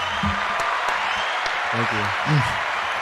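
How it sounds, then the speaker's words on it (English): Steady crowd applause hisses underneath a voice as he keeps talking over it during a Friday show episode. "Let's give a round of applause for that."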